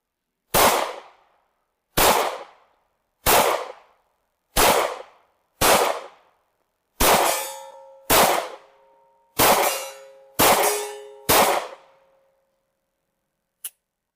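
FN 509 pistol fired at steel targets: ten sharp, loud shots at steady intervals, the later ones ringing with a metallic clang as rounds strike steel, followed by one faint final click.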